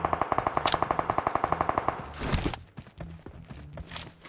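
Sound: gunfire in the video game PUBG Mobile

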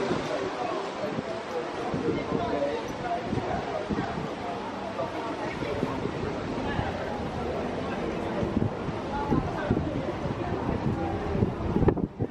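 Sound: strong wind

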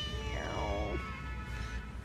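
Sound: temple cat meowing

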